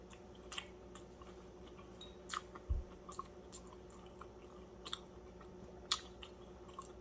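Crunchy fried fish being chewed close to the mic, with soft mastication noise and a few sharp crisp bites breaking through a low steady room hum.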